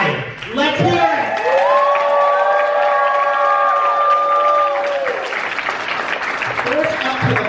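An audience at the Houston Horror 2025 film festival's Scream Queen panel gives loud, sustained applause and cheering from a large crowd. Whoops and shouts rise above the clapping, and the applause slowly tapers off.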